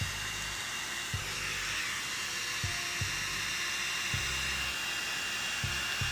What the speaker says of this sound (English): you can definitely feel the fan going